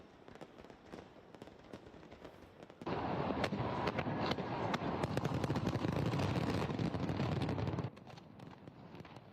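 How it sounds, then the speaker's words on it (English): Rapid crackling bursts of New Year fireworks, distant at first, then a dense loud barrage of pops and bangs for several seconds before easing back. "New Year fireworks celebrations"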